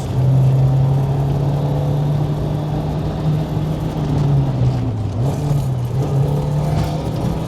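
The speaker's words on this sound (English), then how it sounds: "Very good 3-2 downshift." Toyota AE86 with a 4AGE engine and six-speed gearbox on a mountain touge road: a steady, loud engine drone settles under braking, then dips and rises again around a downshift, with continuous road rumble and no talk.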